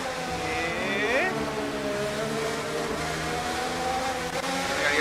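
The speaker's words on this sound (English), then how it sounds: "I gotta get past the lap car of Nick Hulkenberg." Racing car engines whine and rev in a racing video game, with rising and shifting tones as cars accelerate, heard continuously alongside background game sound.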